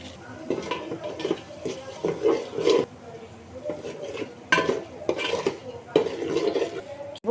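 Chili powder and biryani masala being stirred and lightly fried in a pot, heard as uneven scraping and clinking of a utensil against metal over a faint sizzle. Close, in irregular bursts, with no clear talk.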